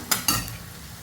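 Onion and garlic fry in a pan, with two quick scraping stirs early on over a soft, steady sizzle.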